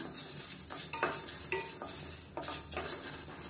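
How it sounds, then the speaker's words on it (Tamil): Black rice and black urad dal dry roasting in a pan: a soft, steady rustling hiss with intermittent scraping strokes of a spoon stirring the grains, close and fairly quiet, with no one speaking. "இது எல்லாத்தையுமே நல்லா வறுத்துக்கலாம்."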